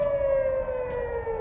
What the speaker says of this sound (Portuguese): sirenes soaram à medida que os mísseis e drones se aproximavam